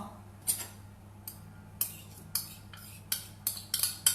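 Butter and sugar worked together in a bowl with a utensil for a simple vegetable bread recipe, giving intermittent clicking scrapes and taps against the bowl over a steady low hum.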